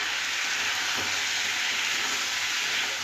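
Small chopped prawns are sautéed in a pan, giving a steady dense sizzle that stays constant throughout, close and moderately loud, with a faint stirring knock.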